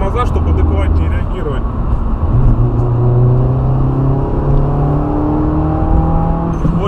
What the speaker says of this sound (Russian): Очень интересный разгон, очень приятный, правильный, хороший звук такой